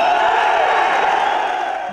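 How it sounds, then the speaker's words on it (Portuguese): A crowd at a municipal council session in Brazil cheers and applauds loudly over a debate on vaquejada, a dense, sustained roar of voices with claps and whoops close by. "Muitos aplausos para aqueles a favor."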